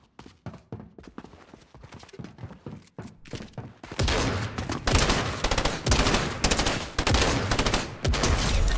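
Gunfire rattles out in repeated short bursts in a video game, the first few seconds quieter and sparser before louder, dense volleys of shots continue.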